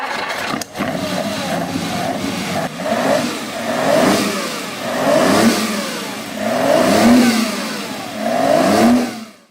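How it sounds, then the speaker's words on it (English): A Ferrari Colombo V12 revs hard in a series of surges, its pitch climbing and falling again and again, loud and close with no voices. "the Colombo V12 would actually power many iconic Ferraris well into the 80s."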